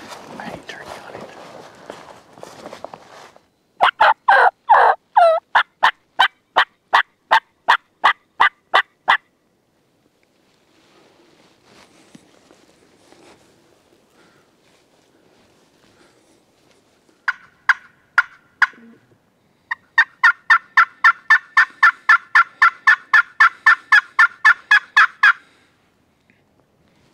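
Wild turkeys gobble in an Iowa field during a hunt in two loud rapid bursts of rattling calls separated by quiet, with faint rustling and whispered talk in between.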